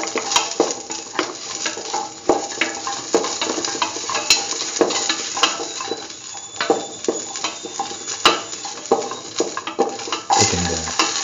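Garlic, curry leaves and salt are stirred in a hot pan, a spoon scraping and clinking against the metal over a bed of sizzling frying, close and fairly loud in irregular strokes.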